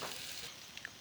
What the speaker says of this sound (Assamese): আলুখিনি যাতে ভালকৈ সিজে, তাৰ কাৰণে আপুনি 5 মিনিটমান আলুখিনি ভাজি ল'ব